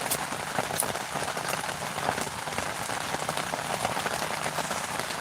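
Heavy rain pours steadily in the New Mexico mountains on the Mescalero Apache reservation during a windy storm, a dense, continuous hiss of drops hitting surfaces close by, with no voices.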